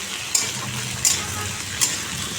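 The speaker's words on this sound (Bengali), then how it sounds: "কেটে নিয়েছি তো বসিয়ে দিলাম মধ্যে কালো জিরে শুকনো লঙ্কা ফোড়ন দিয়েছি তো ভাজা ভাজা করে নেবো" Capsicum, onion and potato fry in oil with black cumin and dried chilli, a steady close sizzle broken by three sharp clicks of a utensil against the pan.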